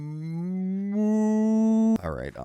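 Cows in the Minecraft video game moo, a long rising low moo followed by a brief higher, warbling call, close and clear with no talk.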